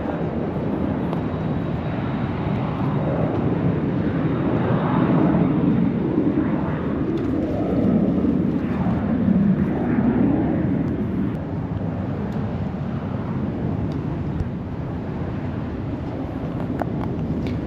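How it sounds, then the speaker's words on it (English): Jet airplanes take off from San Diego airport, heard as a continuous low roar at a moderate distance that swells and fades over the waterfront, with light wind noise. "Jets taking off left and right."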